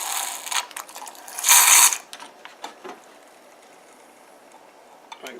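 A metal meat injector drawing up liquid for a whole turkey stuffed with fresh poblanos, heard as close mechanical scraping and ratcheting clicks, loudest at first, then softer scattered clicks.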